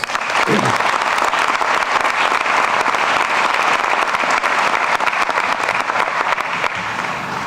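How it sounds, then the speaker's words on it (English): Loud, sustained applause from a large crowd at a doctoral commencement ceremony, steady and dense throughout with no break. "How about a round of applause, not only for our graduates, but for their families."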